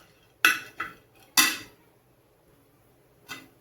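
Dry lentils roasting in a pan for a village-style mutton curry, with a utensil giving a few short, sharp scrapes and clinks against the pan, separated by quiet gaps, close and without talk.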